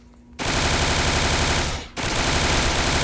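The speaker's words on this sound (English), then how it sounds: "a new, assault rifle called the Honor R7, which is a pretty interesting rifle" Honor R7 assault rifle fired in the game CopNRobber, two long loud bursts of rapid automatic fire separated by a brief break, close and dominant with no talk.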